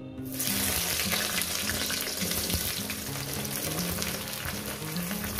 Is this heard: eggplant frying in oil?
yes